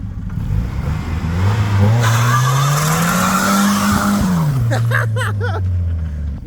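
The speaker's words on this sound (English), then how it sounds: "I think he's gonna spin a bit of tire for us." A 1986 Volvo turbo wagon revs hard with its engine pitch rising and then dropping as the tires spin and squeal loudly up close.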